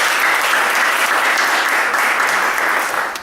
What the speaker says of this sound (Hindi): अरे अच्छे से ताली बजा दो, अच्छे से।